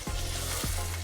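Palm oil fish stew sizzling in a pot, a steady close crackling sizzle with two short thuds from stirring or shifting, no talk.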